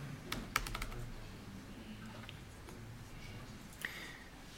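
Keys on a computer keyboard are tapped in a short quick burst near the start, then a few scattered soft clicks follow in a quiet room.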